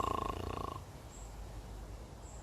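A storyteller's voice imitates a dog snoring, giving a rough, breathy snore after a short voiced sound, then fading into quiet background.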